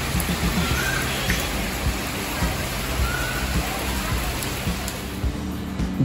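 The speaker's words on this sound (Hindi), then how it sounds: "आज मस्त सुबह से बारिश चल रही है यार" Steady rain falls on a morning, a dense even patter of drops on surfaces close by, moderately loud and continuous with no voices over it.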